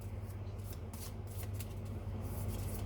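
Tarot-style cards shuffled by hand before another is drawn, a soft crisp riffling that comes in short repeated bursts, fairly close and quiet, with a steady low hum underneath.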